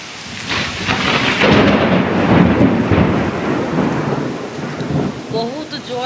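Thunder rolls in deep, loud rumbles over heavy rain during a hailstorm, swelling and fading over several seconds, while the downpour continues steadily behind it.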